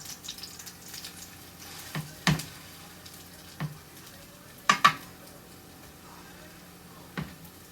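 Baby back ribs frying in an oiled pan and being turned: a quiet, steady sizzle broken by several sharp scrapes and clanks of utensil against pan, spaced irregularly, with no talking.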